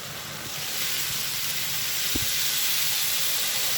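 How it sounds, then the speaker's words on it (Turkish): Mushrooms and peppers frying in a covered pan, a steady close hiss and sizzle that swells slightly and carries on evenly, with a faint clink or two. "Ağzını kapatacağım ve biberlerimizle mantarımız şimdi güzel bir kızaracak"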